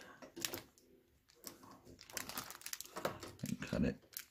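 Scissors snip through plastic packaging of an LED grow lamp, with crinkling and rustling of the wrapping in bursts and a sharper crunch near the end, close to the microphone.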